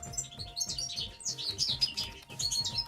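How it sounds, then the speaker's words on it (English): Outdoor spring birdsong: a songbird chirps and trills in a busy, continuous run of bright notes, moderately close and with no voices over it. "The bird's singing."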